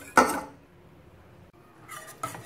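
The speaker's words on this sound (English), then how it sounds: "keep stirring or whipping the mixture as it thickens out" A utensil stirs thickening custard in a pot over medium-low heat, making two brief metallic scrapes against the pan with a quiet pause between them.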